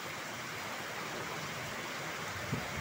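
Rain falls in a steady, even hiss, moderately soft and continuous, with no voices over it.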